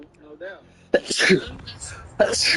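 A person sneezes loudly and close, a sharp burst in the middle of conversation, while people keep talking around it.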